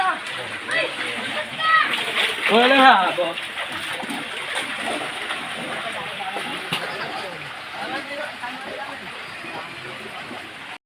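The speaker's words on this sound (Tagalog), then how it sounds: "Wala pa rin humpay ang ulan" Heavy rain keeps falling during Typhoon Carina as floodwater splashes and sloshes around a flooded home, a steady wet wash under people talking nearby.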